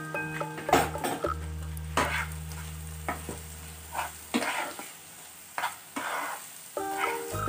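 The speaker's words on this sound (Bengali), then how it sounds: "প্রথমে গ্যাসটাকে মিডিয়ামে রেখে ভালোভাবে এটাকে কষিয়ে নেব।" Ground spices for chicken tikka masala sizzle in a pan over medium heat, with intermittent scraping strokes of a spoon and occasional utensil clinks against the pan, close and moderately quiet.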